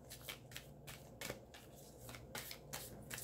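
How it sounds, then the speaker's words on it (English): Large tarot cards are shuffled by hand, giving quiet, irregular bursts of papery riffling and slapping close by, several quick flurries in a row. "These cards are big and they're hard to shuffle."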